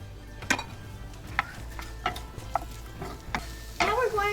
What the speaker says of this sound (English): Now we're going to saute your onions to get a translucent color.